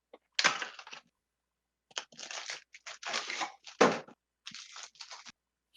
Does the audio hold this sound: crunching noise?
yes